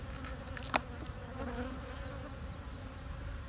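Honey bees buzz steadily and fairly close during a hive inspection, a low continuous drone with a brief sharp knock early on and no talking.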